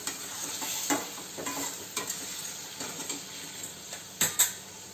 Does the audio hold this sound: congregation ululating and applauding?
no